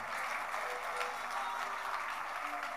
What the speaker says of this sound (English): Sit and give the Lord a big clap.